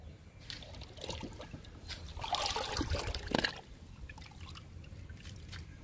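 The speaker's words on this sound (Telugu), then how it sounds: "కాకరపాదుకి ఇచ్చేద్దాము లిక్విడ్ని." Liquid fertilizer poured onto a bitter gourd plant in a home garden, a soft splashing trickle that swells for a couple of seconds then tapers into faint drips.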